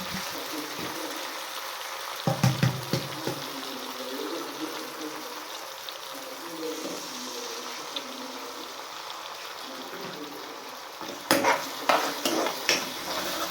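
Eggs frying and being stirred in a pan for a goat blood and egg bhurji, with a steady low sizzle and scattered scraping and clinking of a spatula against the pan, louder bursts near the start and end.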